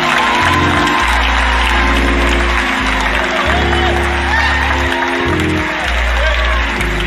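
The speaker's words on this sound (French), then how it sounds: "Vous entendez tout ça, les gens me applaudissent." A crowd applauding and cheering, a dense continuous wash of clapping with whoops under loud rhythmic music that pulses throughout.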